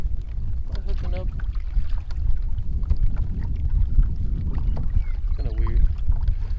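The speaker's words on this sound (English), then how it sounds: "So the sorry part is the wind is blowing that way." Steady wind rumbling across the microphone on a fishing boat during striper fishing, a constant low roar throughout with faint voices and small knocks underneath.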